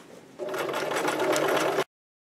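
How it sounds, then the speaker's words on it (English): A sewing machine runs a short seam on a cosplay peplum, whirring steadily and close for about a second and a half before stopping abruptly into silence. "I'm just going to run a seam of about half an inch along this side here"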